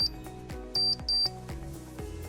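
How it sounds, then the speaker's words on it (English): Electronic beeps from an oven timer being set during bread proving: several short high tones, two of them longer, over quiet kitchen background. "Set the timer for 45 minutes."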